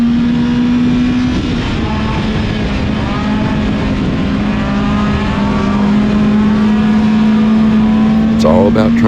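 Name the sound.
Hornet class race car engine on speedway track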